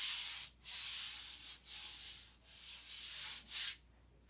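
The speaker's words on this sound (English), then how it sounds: "I'm going to run my hand over it. Listen." Hand rubbed in repeated strokes over a rough surface before sanding, a close, dry scratchy hiss in about six sweeps separated by short pauses.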